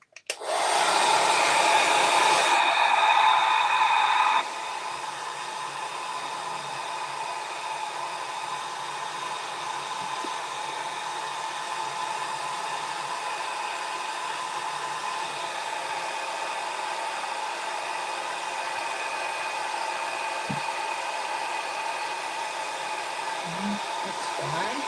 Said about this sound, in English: now let me switch over here to the hair dryer